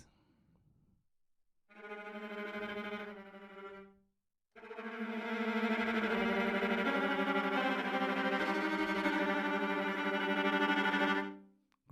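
A Kontakt library string section plays tremolo: two sustained bowed chords, a short one then a longer, fuller swell, rich and steady with dense harmonics, alone without talk.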